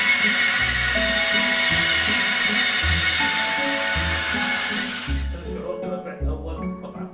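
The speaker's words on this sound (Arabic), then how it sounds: "اسمع صوت المنشار" Steady hand sawing of wood in a carpentry workshop, with a rhythmic pulse of regular strokes under a constant high rasp, close by; it eases off near the end as a voice speaks.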